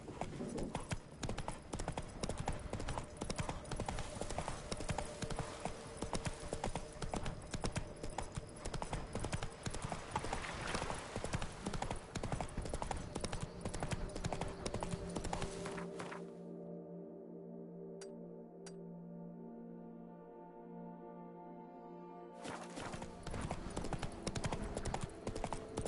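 Horse hooves galloping in The Witcher 3, a loud steady clip-clop rhythm filling most of the stretch, dropping away briefly to quieter ambience before the hoofbeats return; occasional speech mixed in.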